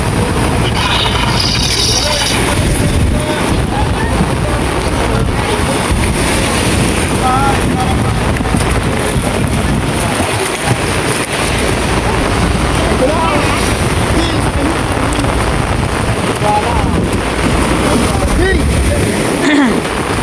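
Heavy rain and strong wind batter a small boat at sea in stormy weather off Mindoro, a steady loud roar of wind buffeting and splashing water with a low engine rumble throughout.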